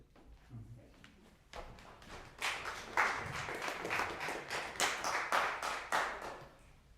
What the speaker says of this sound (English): it felt awkward to clap after that